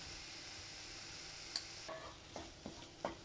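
A pepper masala of onions, ginger garlic paste, turmeric and black pepper fries in a pan with a soft, even sizzle, while a spoon scrapes and taps against the pan several times in the second half.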